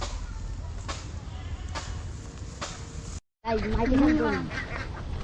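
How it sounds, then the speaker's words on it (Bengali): A flock of ducks quacks in short nasal calls near a pond, mixed with background chatter and other outdoor sounds, the calls clearest toward the end. "প্রচুর হাঁস"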